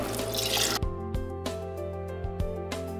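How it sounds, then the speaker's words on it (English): Water is poured into a cooking pot of whole toor dal (pigeon pea) curry: a loud, broad splashing rush, then a few quieter drips and light clinks against the pot. "Let's add in water to this."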